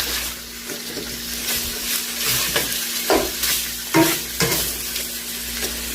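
Ground beef sizzles loudly in a pan for Hamburger Helper lasagna as a utensil breaks it apart and flips it, the steady frying hiss punctuated by repeated scrapes and clanks, with no talking.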